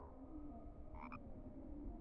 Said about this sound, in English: a chocolate frog, and there's a chocolate frog there